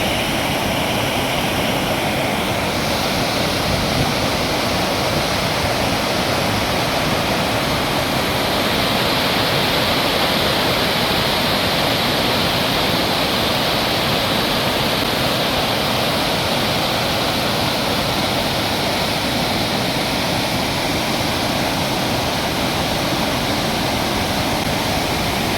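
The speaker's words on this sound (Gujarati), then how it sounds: "અહીંયા બધી નદી આવેલી છે ભયંકર." A river in heavy flood after sixteen dam gates were opened, surging past a washed-out causeway near farm fields; a loud, steady, broadband rush of water fills the whole stretch without letting up.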